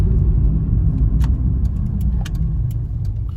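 A 1998 Toyota Corolla II Super Windy G engine accelerating on the road, a steady loud low rumble heard from inside the car with faint ticks over it.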